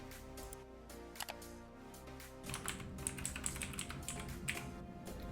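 Fingers type a mobile number on a computer keyboard while logging into a dashboard, a steady run of close, crisp key clicks over about five seconds, with no voices.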